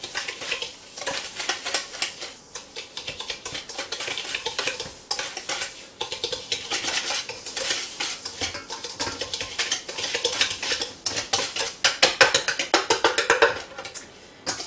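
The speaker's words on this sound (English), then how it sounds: "and a cup of sugar that we are going to mix together" Sugar stirred by hand in a mixing bowl for a banana crumb cake, giving a steady, busy run of spoon scrapes and light clinks against the bowl that lasts the whole time, fairly close and with no talking.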